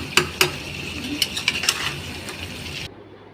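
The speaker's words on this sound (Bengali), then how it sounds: "আর এখন একটু সামান্য পরিমাণ মতো লবণ দিয়ে আবারও মা ভালো করে নাড়াচাড়া করে নিচ্ছে" Chicken meat with a little salt stirred in a pot for chicken biryani, with a soft sizzle under several sharp metallic scrapes and clinks of the spoon against the pot before it cuts off.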